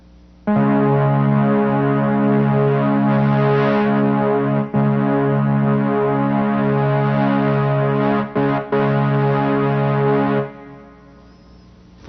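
An analog synthesizer plays a sustained string patch with a slow filter envelope, a rich, buzzy chord that holds for about ten seconds with a couple of brief dips before fading out, with no voice over it.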